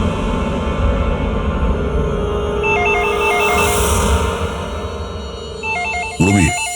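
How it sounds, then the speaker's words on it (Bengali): A mobile phone rings with a repeating electronic ringtone pattern over a loud background drone, ending in a sharp, warbling burst. "ফোন তোলো।"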